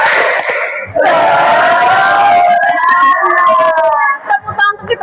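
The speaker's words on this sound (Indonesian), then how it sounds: "Kita melakukan tepuk semangat kembali supaya semangat yang sudah hilang kembalilah lagi" A classroom of students performs a spirit clap chant, loud group voices shouting in unison with rhythmic claps, sustained and close for several seconds before breaking into scattered bursts near the end.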